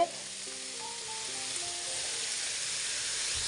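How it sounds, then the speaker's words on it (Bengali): Eggplant slices frying in hot oil, a steady close sizzle that runs unbroken and grows slightly louder, with a few faint clinks early on and no talk. "বেগুন ভাজা হচ্ছে"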